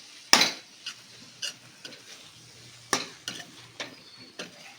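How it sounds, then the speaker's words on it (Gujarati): A spoon scrapes and clatters against a hot tawa, stirring tawa pulao with coriander and boiled potatoes. Sharp metallic scrapes come at irregular intervals over a faint sizzle, fairly close, with no talking. "બધું જ સારી રીતે મિક્સ કરવાનું છે."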